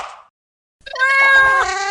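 A cat in a PS4 game lets out a short sound, then a loud drawn-out meow after a brief silence, close and clear.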